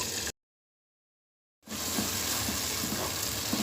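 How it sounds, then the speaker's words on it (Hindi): Four medium onions, chopped in a hand chopper, sizzle steadily in hot oil over high heat for an aloo chicken curry, a close, loud hiss that begins after a brief silence and continues unbroken. "अब प्याज को तेज़ आंच पर उस वक्त तक फ्राई करेंगे जब तक ये हल्की गोल्डन होना शुरू हो जाए"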